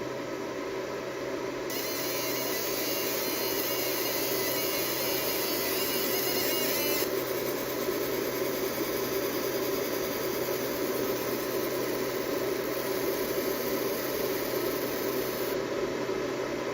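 A ComMarker B6 laser engraver strips powder coating from a Benchmade Bailout knife, giving a steady hiss and fan-like whir with a high whine that cuts in and out as the passes run.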